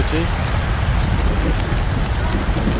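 Steady, dense rain pouring down nearby, a continuous broadband hiss with low rumble, while a person speaks softly beneath it.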